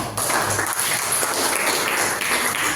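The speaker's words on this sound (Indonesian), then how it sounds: "Oke, tepuk tangan." Students in a classroom break into a short burst of clapping, a dense, close patter of hands that runs evenly for a few seconds.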